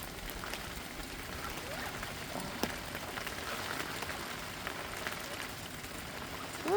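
Light drizzle falls steadily around an outdoor bird aviary on a damp fall day, a soft continuous patter of drops on surfaces with a few faint bird chirps and a brief closer tap.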